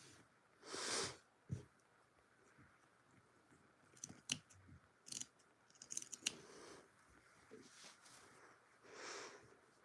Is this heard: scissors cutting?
yes